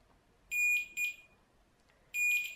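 A continuity tester beeps while wires of matching color are checked in a Corolla E11 wiring harness: three short, clear electronic beeps, two close together and one after a pause, over a quiet background.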